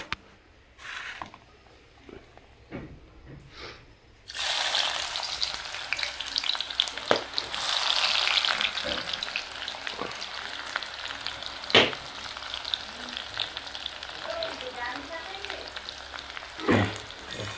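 Onions and meat frying in oil in a pan, a steady crackling sizzle that starts loudly after a quiet few seconds of scattered clinks, with occasional louder pops and utensil scrapes throughout.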